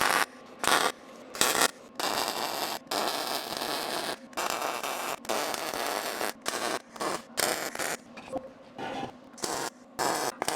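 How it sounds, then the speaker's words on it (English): A MIG welding gun crackles and buzzes in bursts while welding a steel hammer rack, loud and close, with short pauses of near silence between beads. "All right, let's weld her up."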